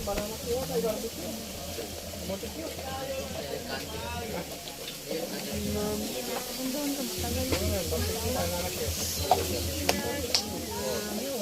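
Steady crackling sizzle of sweet potato frying in hot oil, with people chatting in Filipino over it throughout.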